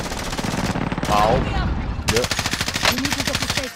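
Rapid bursts of automatic gunfire in a first-person shooter, loud and close, with a brief pause before a second sustained burst; someone speaks briefly over it.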